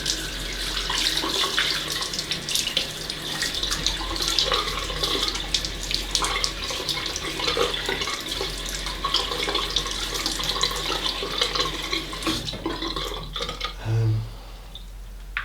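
A bathroom tap runs steadily into a sink to wet the face before a straight razor shave, a loud, close, continuous gush of water with no one speaking.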